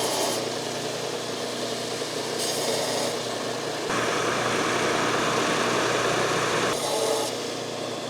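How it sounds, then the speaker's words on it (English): A belt sander chamfers the edges of big-block Chevy 396 connecting rods: a steady grinding rasp over a motor hum, with the workpiece pressed on in several short bursts. "we quickly chamfer the edge on a belt sander"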